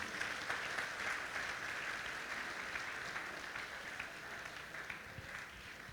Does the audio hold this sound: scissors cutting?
no